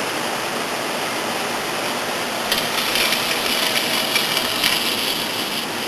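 Water pours steadily into a 5-gallon bucket during all-grain beer brewing, with a constant rushing hiss that grows a bit brighter and splashier partway through.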